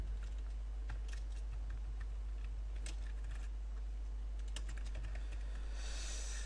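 Someone types code on a computer keyboard with quick, irregular clicking keystrokes, close and soft over a steady low electrical hum, with no one speaking.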